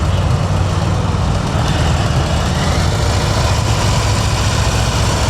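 Motorcycle engine running close by during slow clutch and brake stopping practice, a loud steady low rumble that barely changes through the whole stretch.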